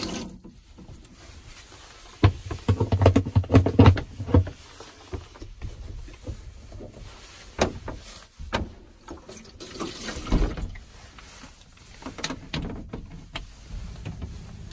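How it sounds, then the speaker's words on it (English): Water runs from the shower in the wet room of a Peugeot Autosleeper Harmony motorhome, a hissing spray with clattering splashes and knocks, louder in bursts and steadier in between. "I can try and demonstrate the shower."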